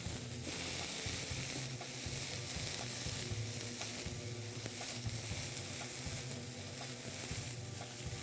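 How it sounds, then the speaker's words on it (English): Pepper steak browning in a hot pan, a dense continuous sizzle and crackle that holds steady throughout, close up with occasional faint stirring. "Keep browning that for a minute or two."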